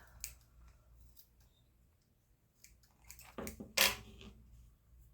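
Scissors snip through brown rickrack trim for a baby blanket, a few soft cuts early and a louder, closer crunch of the blades near the end, with quiet gaps between cuts.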